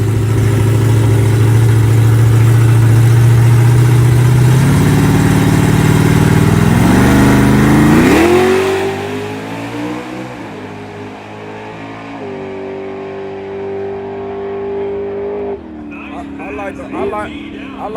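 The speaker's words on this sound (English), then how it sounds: "I like the way that truck running right there." A race truck engine runs loud and close with a deep harmonic drone, revving down around the midpoint, then holding a steadier pitch before a brief drop near the end. Voices talk over it.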